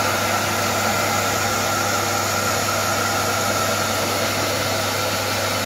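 A heat gun blows steadily and loudly at close range while shrinking the covering on a large model flyer, a continuous whooshing roar with no pauses.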